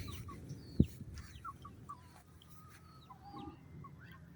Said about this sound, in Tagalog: may manok doon po